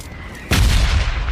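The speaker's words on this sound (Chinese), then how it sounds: "又比如这是之前轰炸区的音效" An old bombing-zone effect from the mobile battle royale game Peace Elite: quiet ambience, then a sudden loud explosive boom at about half a second that rumbles and roars on to the end.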